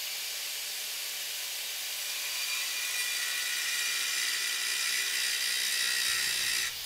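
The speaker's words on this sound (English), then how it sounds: "I wanted to see how the steel would react to a cutoff blade on an angle grinder" An angle grinder with a cutoff blade cuts into steel, giving a bright, hissing whine that swells louder over several seconds before dropping off at the end, with no talking.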